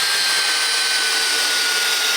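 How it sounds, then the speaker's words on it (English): A combi drill on a slow setting drives a screw into a ceiling board, giving a steady, close, continuous whirring hum with no pauses. "You can hear the pinch, but it's not going to over tighten the screw and weaken its properties"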